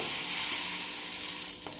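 Crushed onion chutney sautéing in hot sesame oil, a steady close sizzle with light crackles and a few stirring scrapes, no voices.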